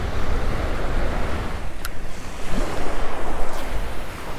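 Ocean surf washes onto the shore during a solo fishing trip, a broad, steady roar of breaking waves with some wind buffeting the microphone and no talking.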